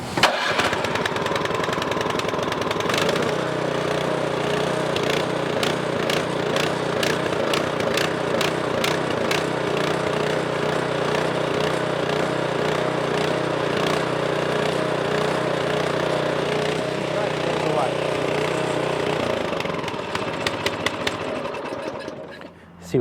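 A Toro Power Clear 721 snowblower engine fires up and settles into a loud, steady chugging run close by, continuing for about twenty seconds before cutting off, with a voice talking over it.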